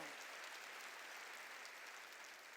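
A church congregation claps together during a sermon, a continuous, even wash of clapping that is faint and distant throughout.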